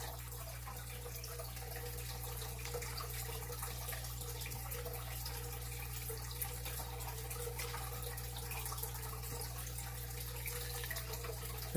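Water from the over-the-top filters of a fish tank pours and splashes steadily like a small waterfall. A constant, close, fairly soft trickle and rush hold with little change and no talk.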